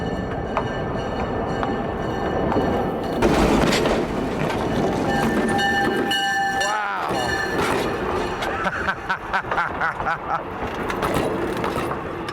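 A locomotive rolls over a penny placed on the railroad tracks, its wheels giving a loud, close rumble with rhythmic clickety-clack and brief metallic squeals, while voices talk over the passing train.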